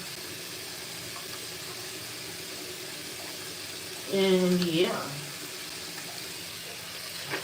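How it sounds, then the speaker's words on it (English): Hot tap water runs over hands in a short burst of splashing flow lasting about a second, set against quiet room noise, with brief speech nearby. "I do wash my hands with hot water"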